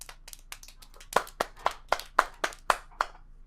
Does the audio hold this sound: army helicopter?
no